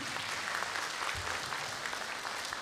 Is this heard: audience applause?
yes